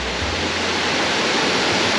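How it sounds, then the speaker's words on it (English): A steady, loud rush of falling water from Blue Hole Falls on the Fiery Gizzard Trail, broad and continuous like a nearby waterfall, with no voices. "Blue Hole Falls."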